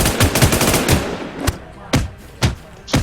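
Gunfire in an online shooter video game: a quick cluster of close, rapid shots followed by several sharp single shots spaced about half a second apart, with no talking.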